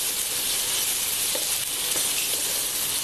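Chopped tomatoes frying in a pan for a restaurant-style paneer butter masala, a steady close hiss of sizzling throughout, with a few faint scrapes of stirring and no voices.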